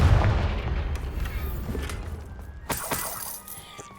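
A Confringo fire-blast spell goes off in the Hogwarts Legacy video game, a heavy booming blast with shattering crackle that swells at the start, then a second sharp burst and rumbling debris fading out.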